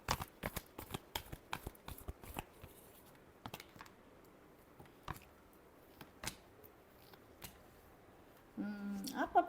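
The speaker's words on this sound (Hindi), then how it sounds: "last shuffle" Tarot cards are shuffled by hand close up, making quick soft riffling snaps in uneven bursts, thinning out partway through, with a voice briefly speaking at the end.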